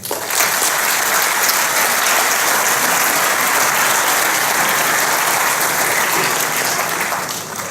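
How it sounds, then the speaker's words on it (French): Sustained, loud applause from the audience at a New Year's greetings ceremony in Sanary, France, thick clapping holding steady for several seconds before easing slightly at the end. "On les applaudit, s'il vous plaît."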